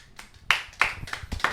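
A single person claps by hand in a small indoor talk-event setting, giving four or five distinct, fairly close claps at an uneven pace against a quiet background.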